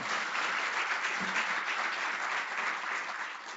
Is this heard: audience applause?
yes